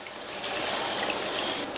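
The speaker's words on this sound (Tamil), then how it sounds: "இதில் 1/4 கப்பு தண்ணி சேர்த்துருக்கேன்." Water is poured into a pan of mushroom masala cooking on the stove, a soft, steady trickle lasting a couple of seconds with quiet kitchen background.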